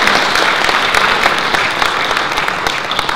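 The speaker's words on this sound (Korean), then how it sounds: "모두 큰 박수 부탁드립니다." Loud, dense audience clapping at a flower design association's year-end ceremony, a continuous wash of many hands close by with no pauses.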